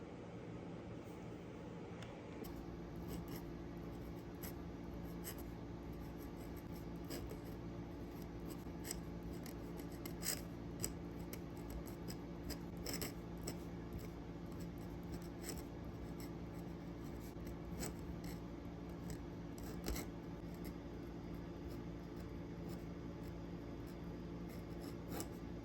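A worn, blunted calligraphy pen nib scratches and catches on paper in soft, irregular strokes, close and quiet over a steady low background hum, with no voices.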